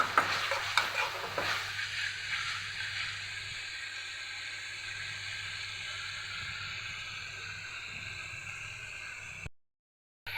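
Spice paste frying in a pan while being stirred, a continuous soft sizzle with some scraping stirs at the start, steady and close, no talking, then a brief silence at the very end.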